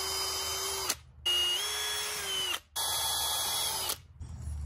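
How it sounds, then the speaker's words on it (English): A power drill fitted with a 3/16-inch bit drills holes in a C5 Corvette dashboard, whining loud and close in three sustained runs with brief stops between them. "I have a 3/16 bit, and I'm just gonna drill in these holes."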